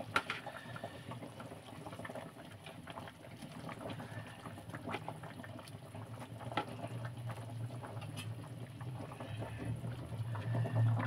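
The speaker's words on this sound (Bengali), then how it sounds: "ঝোল ফুটে গেছে, এবার আমি মাছগুলোকে দিয়ে দেব।" A thin fish curry broth bubbles in a pot, making a soft, steady simmering and popping that stays faint and close throughout.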